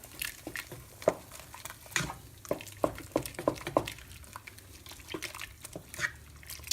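Amber ale is poured into a pot of turkey chili with black beans, giving faint, close splashes and drips in an uneven patter against a quiet kitchen background.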